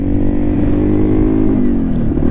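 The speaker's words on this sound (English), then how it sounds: "I have the clutch out on this motorcycle, and I can just use throttle and get going" A Yamaha TW200 motorcycle engine hums steadily, its pitch rising slightly as it pulls away from a standstill on throttle alone, loud and close with no talking.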